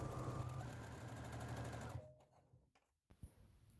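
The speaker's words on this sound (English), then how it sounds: "I'll speed up the sewing a little bit" Sewing machine stitching a doll skirt, running fast and steady for about two seconds, then stopping, leaving a few soft handling clicks and a brief knock.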